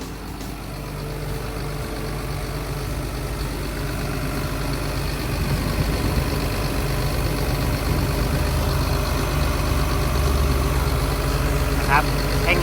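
A Caterpillar 320D-E 20-ton excavator's diesel engine idles steadily at close range, a low continuous rumble with a slight rise in intensity partway through.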